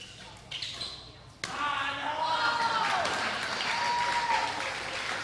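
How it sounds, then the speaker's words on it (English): Crowd of about 200 spectators applauding at an indoor pickleball all-star match, a sustained wash of clapping that swells after a paddle hit, with a commentator speaking over it. "That got a good response from the crowd here"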